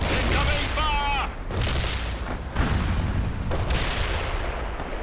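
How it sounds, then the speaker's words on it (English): Medium artillery in the World in Conflict strategy game fires in a series of heavy booms and blasts, several loud impacts spaced a second or so apart, with radio-style voices talking over the barrage. "Medium artillery, we have the firing solution."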